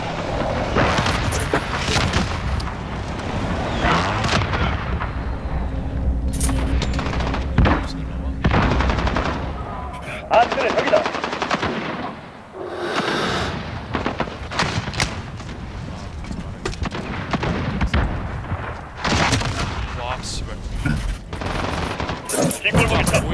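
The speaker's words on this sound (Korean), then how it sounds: "아군 정밀 공습 개시." Minecraft Modern Warfare battle with an air strike: dense, loud bursts of rapid machine-gun fire and booming explosions continue almost without pause, with game radio voices and players talking amid the shooting.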